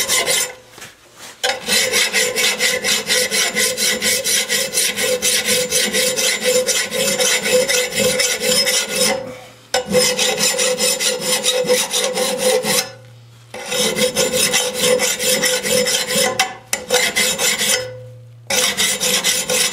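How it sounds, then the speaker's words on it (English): A hand file rasps along a lawn mower blade in long, steady, loud strokes of scraping metal, broken by three brief pauses where the file lifts off the blade. "Let's go with the file now."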